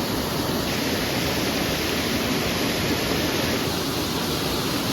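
Water pours steadily down a waterfall in Ireland, a continuous broadband rush with no pauses, fairly distant and even in level throughout.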